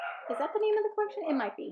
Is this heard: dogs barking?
yes